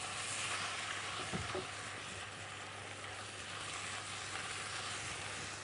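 Peeled, seeded tomato flesh fries in a pan with a continuous close sizzle, and a single stirring scrape cuts through early on; no one speaks.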